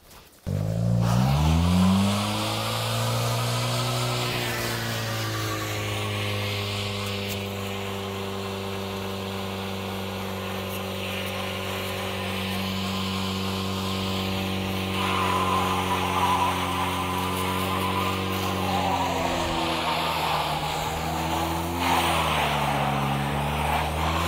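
A two-wheel-drive car fitted with a Quaife helical limited-slip differential accelerates hard, its engine note climbing and holding loud and close with rising harmonics and tire noise, easing briefly midway before pulling again.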